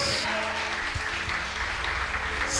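A church congregation applauding, a steady wash of many hands clapping throughout, moderately distant and even in level.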